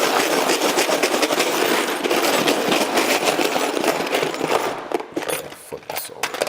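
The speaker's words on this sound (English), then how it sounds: "Rusty razor blades, some bolts, screws. Let's pop it in there and give it a shake." An iPhone X shaken in a container with rusty razor blades, bolts and screws gives a loud, continuous metallic rattle and scraping that thins out toward the end.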